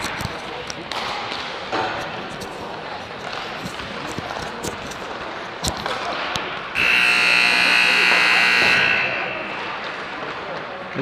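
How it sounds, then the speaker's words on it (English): A loud electronic buzzer ends hockey warm-ups at a rink, sounding as a sustained tone for about two seconds. Before it come scattered puck and stick thumps and arena murmur, and talk runs through. "And there's the buzzer to signal the end of warm-ups."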